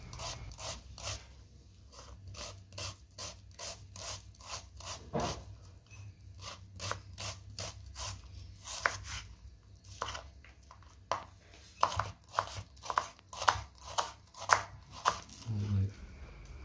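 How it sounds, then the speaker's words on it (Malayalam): Onion and other ingredients being chopped into small pieces with a knife on a board for spicy chicken kondattam, a steady run of sharp, close knife taps in quick rhythm, growing louder toward the end. "സവാള ഇതെല്ലാ സാധനങ്ങളും ചെറിയ കഷ്ണങ്ങളായിട്ട് അരിഞ്ഞെടുക്കാം"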